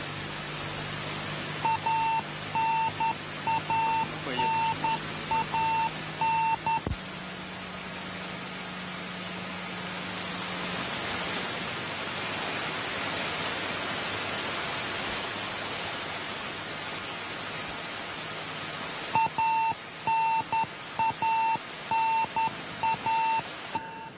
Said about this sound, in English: the sound you hear is a radio beacon signal that is being received